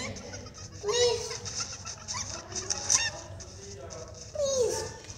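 A chicken in the video game Fortnite clucks in several short, squawking bursts with some quieter clucks between them, fairly close over faint background game noise.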